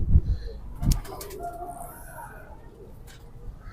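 Chena pigeons coo in a few soft, low bursts near the start, followed by faint chirps and quiet background noise with a little distant talk.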